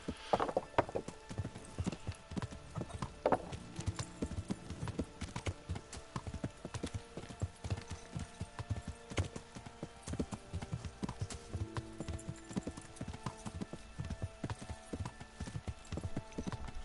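Steady clip-clop of horse hooves at a walking pace in the video game Kingdom Come: Deliverance, close and continuous, with an occasional whinny and faint background ambience.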